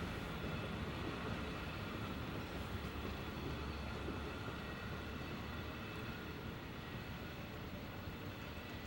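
A Long Island Rail Road train runs over welded rail and concrete ties, a steady broadband rumble and roar that holds evenly for the whole stretch, distant to moderate and without voices.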